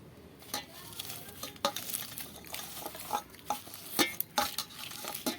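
Fried green and dried chilies are mixed with salt in a wok, making uneven scraping and stirring scuffs with light clinks against the pan over a faint sizzle, close up and without talk.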